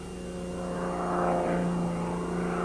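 A propeller-driven aerobatic airplane drones steadily overhead, its engine hum and prop buzz holding constant and fairly loud throughout with no voices.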